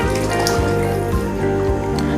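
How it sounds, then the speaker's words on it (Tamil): Water is poured into a pot of rice being cooked for Keelakarai-style ghee rice, giving a steady, close splashing and trickling that runs unbroken throughout with no talk over it. "ஸோ 3 கப் தண்ணி ஆட் பண்ணிக்கிறேன்."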